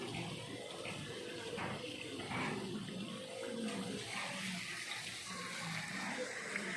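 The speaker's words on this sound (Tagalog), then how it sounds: "The shower." Shower running in the men's comfort room at a garden resort in Guiguinto, Bulacan, a steady close hiss of spraying water lasting several seconds with faint background noise.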